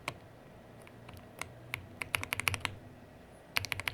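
Typing on an Aula F99 mechanical keyboard, with sharp, close keystroke clacks that start sparse and then come in quick irregular bursts over a low steady background hum.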